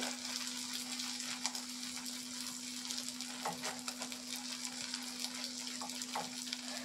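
A Maggi noodle omelette fries gently in a pan over low heat, giving a quiet, continuous sizzle with faint crackles over a steady low electrical hum.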